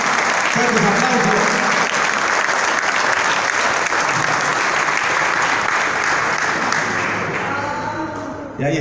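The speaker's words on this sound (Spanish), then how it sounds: "Fuerte un aplauso para Abril, por favor." Loud sustained applause from an audience at a football book launch, a dense roar of clapping that holds strong for several seconds before tapering off at the end, with voices mixed in.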